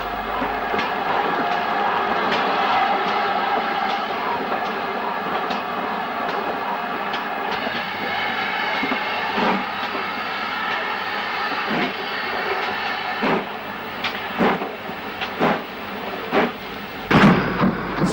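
GWR Manor class steam locomotive 7816 Frilsham Manor arrives at a 1960s station on the Banbury to Birmingham Snow Hill line, a steady rumble of rolling wagons with repeated clanking wheel beats and chuffs growing sharper toward the end.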